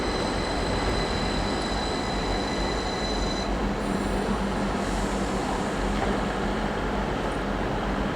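A train passes through Leeds station with a continuous rumble of wagons and wheels, high squeals ringing above it for the first few seconds.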